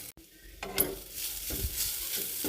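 Masala paste frying in a pan gives a faint, low sizzle with soft stirring scrapes and a brief clack near the start.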